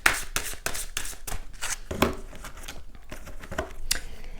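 Oracle cards being shuffled by hand, a run of quick papery riffles and slaps in an uneven rhythm, close and fairly loud, with no talking.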